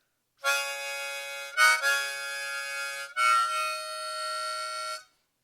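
A harmonica plays sustained, reedy chords in three long notes, shifting between blow and draw with a brief bend on hole 4, close and clear with no voices.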